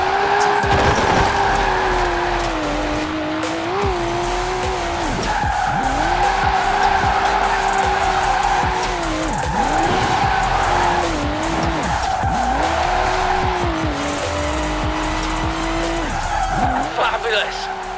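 Car tyres squealing through repeated drifts in the video game Forza Horizon 4, loud engine revs rising and falling in waves with sustained skid screeches, a narrating voice talking over the top.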